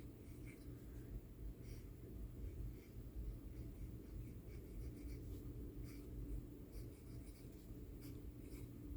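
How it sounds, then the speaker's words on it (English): A pen scratching across a notepad in short repeated strokes, faint and close, over a constant low background hum. "I did pull out a notepad so we could give it a try. Okay, so it's writing."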